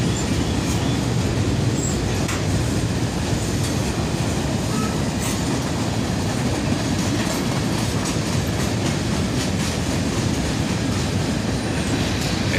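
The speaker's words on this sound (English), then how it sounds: "A big northbound manifest train on a Saturday morning." Freight cars of a big northbound manifest train pass close by near downtown Dayton, a continuous heavy roar with repeated clacking of wheels on rail joints and occasional light squealing from the wheels.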